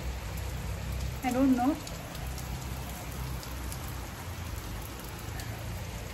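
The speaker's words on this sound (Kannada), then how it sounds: "ಮಳೆ ಬರ್ತಾ ಇದೆ" Steady rain falls outside a home during a Diwali festival day, a continuous broadband hiss of drops on surfaces, with a short burst of voice briefly rising over it.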